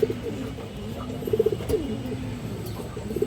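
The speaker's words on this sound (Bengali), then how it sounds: "বাঘা খাকি মাদি কবুতর" A khaki female pigeon of the Bagha type coos close by in soft, repeated short pulses over a low background hum.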